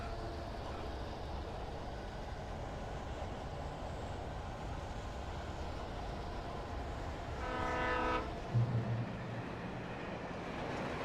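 A train passing near tracks with a steady low rumble and rolling clatter, then a horn sounds from a distance with a short harmonic blast, followed by a brief lower thump.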